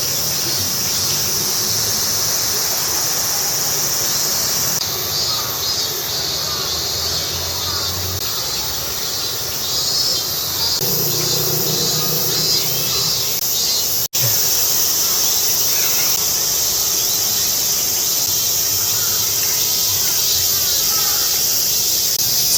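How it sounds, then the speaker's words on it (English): Cicadas chirping steadily in Kiyosumi Teien, a Japanese garden in Tokyo, a dense continuous high buzzing drone that fills the whole stretch, with faint shifts in intensity and distant ambient noise beneath. "You can hear the cicadas."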